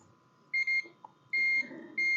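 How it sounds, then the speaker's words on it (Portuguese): A multimeter in continuity mode beeps while probing a shorted component on a phone circuit board, giving three sharp, steady electronic tones of varying length, close and clear over faint background hiss. "se a bobina aqui está em curto, está bipando curto, esse capacitor também vai bipar"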